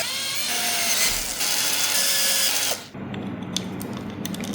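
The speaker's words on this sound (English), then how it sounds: "Next, I'm tapping M6 threads in the rods." Power tapping of M6 threads into metal rods for a stroller suspension build, a steady high whirring tool run that cuts off abruptly, followed by quieter workshop noise and a few faint clicks.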